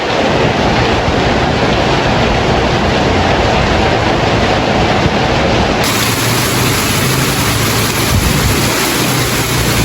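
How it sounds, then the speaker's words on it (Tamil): Heavy rain pours down near the Tellippalai bus stand in Jaffna, a loud, dense, unbroken hiss filling the whole stretch, with no voices. "பஸ் ஸ்டாண்டு பக்கத்தில் பாருங்க என்ன மழை பெய்யுது"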